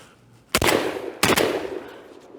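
Two sharp, loud gunshots ring out outdoors at clay targets launched by a Caldwell Claycopter, spaced under a second apart, each followed by a short echoing tail.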